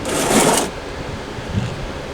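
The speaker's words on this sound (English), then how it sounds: "Just take a take a ratchet, stick it in there, put it to loosen," A ratchet loosens the transmission drain plug on a Honda CRX with a quick burst of rapid clicking, followed by quieter faint knocks and shuffles of the tool nearby.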